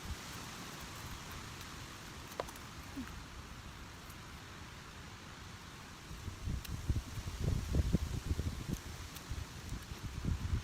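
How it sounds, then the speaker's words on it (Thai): Strong wind rushes through forest leaves while mushrooms are gathered, a continuous hiss that swells into louder gusty rustling and handling noises in the second half, with no talking. "เสียงลมแรงมากเลยท่านเนี่ย"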